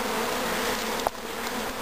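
A dense, steady buzzing of many bees hums continuously at close range, with a brief bump partway through.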